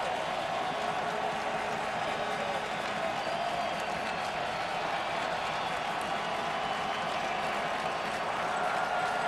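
Baseball crowd at the Oakland Coliseum during a 2012 ALDS Game 5, a steady, moderately loud wash of cheering and clapping that holds at an even level throughout, with no single voice standing out.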